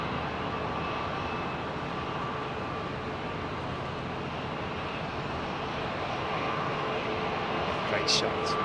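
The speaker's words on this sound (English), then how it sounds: "There it is, taxiing out now." A jet airliner taxiing on the ground at London Heathrow Airport, a steady broadband engine roar that holds at an even level throughout, with a brief brighter whine near the end.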